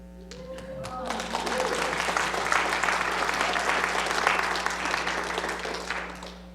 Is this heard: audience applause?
yes